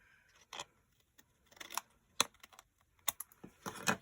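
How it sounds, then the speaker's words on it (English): Crisp snipping and clicking of scissors trimming paper, several short sharp cuts in an irregular rhythm, close by and fairly quiet. "it's just as easy to take your scissors and trim it."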